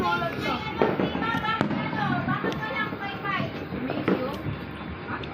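A steady crackling hiss of a burning firework fountain at New Year fills the clip, with sharp pops scattered throughout and people talking nearby.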